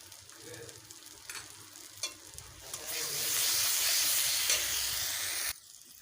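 Poppy seed paste with green chillies and a little sugar sautéed in a pan for rui posto, a steady sizzle building into a loud, bright hiss of frying that stops abruptly, with occasional stirring scrapes.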